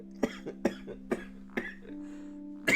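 One person coughs about six times in short, sharp bursts spaced across a few seconds, close and fairly loud over faint, steady tonal background music.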